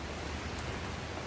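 Steady rain falls on an outdoor garden beside a polytunnel where a patio is planned, a dense, even hiss with no breaks and no voices.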